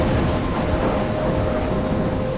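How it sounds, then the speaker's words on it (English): Thunderstorm with steady heavy rain in the video game Life is Strange, a dense constant roar of downpour with low thunder rumbling underneath, loud and unbroken with no voices. "I'm trapped in a storm?"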